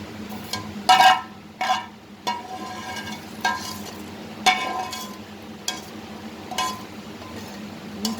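Chilies frying in a pan for atukula mixture, with intermittent sizzling bursts, stirring scrapes and light clinks of a utensil against the pan, close and moderately loud, no talking.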